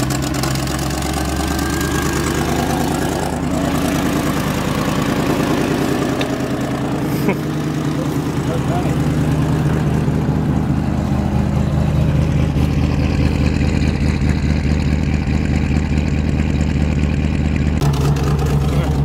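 An old Range Rover Classic engine with an exhaust leak idles and runs steadily with a rough, raspy exhaust note and a low hum, close by; a brief clack partway through.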